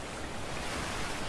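Steady broadband rush of a waterfall in the video game A Way Out, a dense, even roar of falling water heard alone without gaps.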